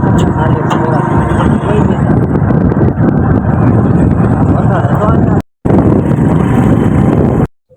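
Steady, loud wind buffeting and engine rumble from a motorbike ride, continuous until two abrupt cutouts near the end, with a voice talking.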